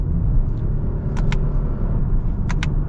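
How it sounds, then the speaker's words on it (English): Steady engine rumble from a 2022 Lexus ES 350 shifting gears in manual mode, loud and continuous inside the cabin, with a couple of brief faint clicks from the shifter. "Pop into the manual mode here. Downshifts are relatively good."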